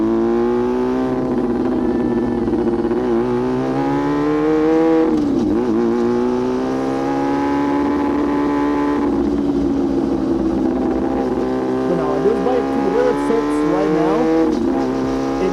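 A very loud Yamaha R6 sport motorcycle roars while being ridden, its engine pitch climbing and dropping through repeated revs and gear changes, close and continuous throughout.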